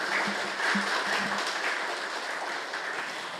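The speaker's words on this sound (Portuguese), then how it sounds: "Uma salva de palmas ao nosso convidado especial" An audience at a medical lecture event applauds a special guest, a dense, even wash of many hands clapping at moderate distance, sustained throughout, with a faint low murmur early on.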